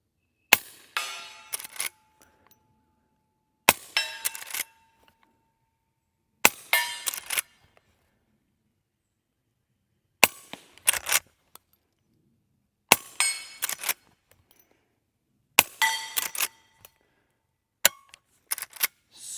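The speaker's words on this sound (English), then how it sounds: "you're going to see how quiet this setup is with the suppressor, firing regular 38 Specials" A suppressed Henry lever-action rifle firing regular .38 Special rounds outdoors, about seven sharp muffled cracks spaced a few seconds apart, each followed by metallic clatter of the lever cycling, with quiet gaps between.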